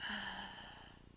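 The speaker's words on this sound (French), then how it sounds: "j'inspire par la bouche ouverte" A deep breath drawn in through an open mouth during a grounding and breathing exercise, a single breathy airy inhale close to the mic that fades over about a second.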